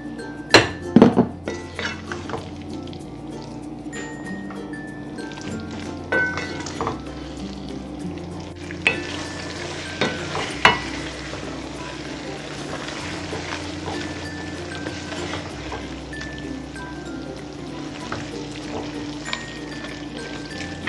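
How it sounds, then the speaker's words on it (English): Broccoli is added to a sizzling pan for creamy chicken Alfredo and stirred, with steady frying hiss, clinks of a utensil against the pan and occasional scraping knocks throughout, close and alone. "I'm gonna add the broccoli also."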